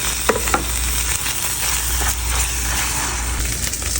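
Fish pieces and spices for Bangladeshi hilsa pulao frying in a pan, a steady close sizzle that holds without pause, with a few soft clicks near the start and no talk.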